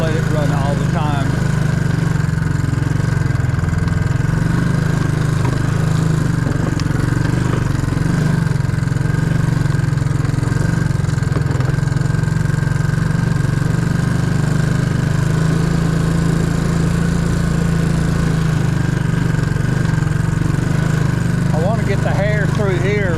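A four-wheeler ATV engine runs at a steady idle close by, its low continuous drone holding even for the whole stretch with little change in pitch.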